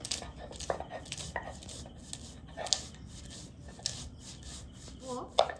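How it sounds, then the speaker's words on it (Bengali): A knife chops pistachios and almonds on a board, a scattering of short crisp taps and scraping rubs at irregular intervals, fairly quiet and close. "আমি পেস্তা বাদাম আর কাঠবাদামটাকে কুচি করে দেব"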